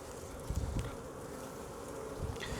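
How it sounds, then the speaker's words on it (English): Dense, continuous buzzing of many honeybees close by, a low droning hum with occasional louder passes. "So we've got a lot of bees on this frame"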